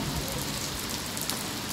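Steady rain pours down at Cheow Lan Dam in Surat Thani, a dense, constant hiss of drops on surfaces that fills every moment, with no voices.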